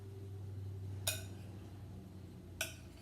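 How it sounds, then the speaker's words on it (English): A Greek broccoli pasta salad stirred in a bowl, giving two sharp clinks of a utensil against the bowl about a second and a half apart over quiet room hum. "We're going to stir this up good."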